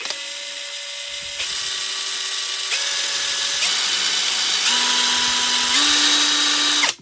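A TOPSHAK TS-PW1 impact driver spins up in a loud, close, continuous whine, its pitch stepping higher in several stages as the trigger is pressed further, then cutting off abruptly at the end.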